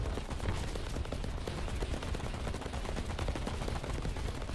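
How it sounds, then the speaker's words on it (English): A helicopter's grenade launcher fires at an armored vehicle in a combat video game, giving a dense, unbroken patter of rapid blasts and shots at low, even loudness throughout. "I'm finishing him off with the grenade launcher"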